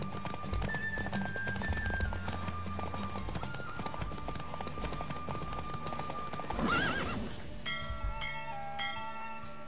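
A horse in The Witcher 3 gallops with steady clip-clop hoofbeats, then lets out a loud whinny partway through, with faint bell-like tones ringing behind it.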